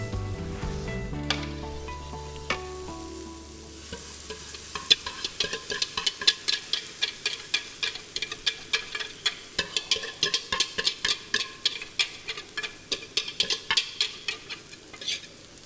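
Sauce for Thai cashew chicken bubbles and sizzles in a pan while a utensil stirs and scrapes. After a few low clunks at the start, sharp clicks come in a quick, steady rhythm. No voices are heard.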